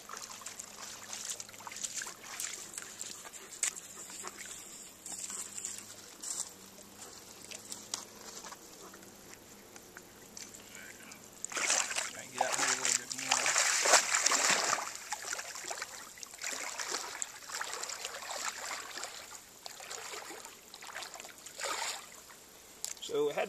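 Water trickles and splashes into a weighted soda-bottle fish trap baited with dog food, rising into a louder gushing pour midway, with a person talking intermittently over it outdoors.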